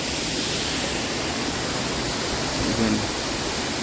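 Abbey Falls in Coorg roars as a dense, constant wash of falling water, loud and unbroken, with a brief spoken word barely surfacing above it.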